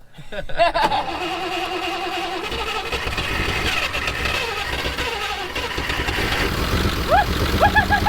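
An old vehicle's engine cranks, catches and settles into a rough, steady idle nearby, with brief laughter and a voice faintly in the background.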